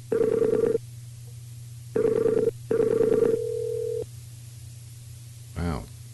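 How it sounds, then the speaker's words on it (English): A telephone rings after a call is dialed: three bursts of electronic ringback, the last trailing into a steady tone, followed by a brief click or pickup sound, clear and close as if over a phone line. "There goes the phone."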